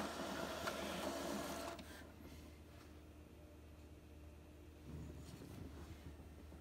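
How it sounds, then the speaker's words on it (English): An Epson XP-8500 photo printer printing: close mechanical whirring and feed noise, loudest for the first couple of seconds, then a softer steady hum with a brief swell of motion near the end. "it looks like it is printing"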